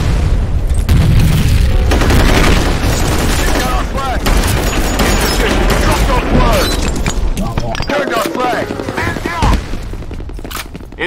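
Grenade blasts and rapid gunfire from the video game F.E.A.R. Combat crash in a dense, loud barrage of booms and fusillades over about eleven seconds, with shouted voices mixed into the chaos.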